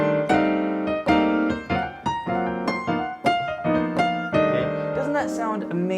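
A piano plays a minor blues scale with the slide technique, sliding between notes in short lounge-jazz phrases, about a dozen struck chords and notes, clear and up close with no talking.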